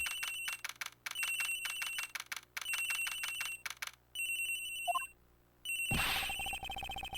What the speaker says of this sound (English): The ring is coming from somewhere in here, sir.